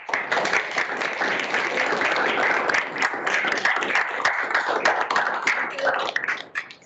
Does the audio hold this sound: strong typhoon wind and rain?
no